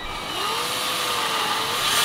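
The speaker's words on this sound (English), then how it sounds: "the next step is to, well, drill more holes" Power drill whining steadily as it bores a hole into a plastic duck decoy, a close, continuous high motor drone that rises slightly as the bit works through the plastic.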